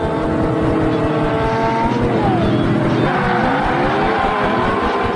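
Video game race with a beater truck against a World Rally car, steady engine roar with rising and falling revving pitch, continuous and loud, with no talk.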